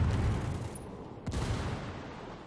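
Frag grenade detonating in the Ghost Recon Wildlands video game, heard as a deep, rolling boom with rumbling gunfire-like crackle that fades away, fairly quiet in the mix.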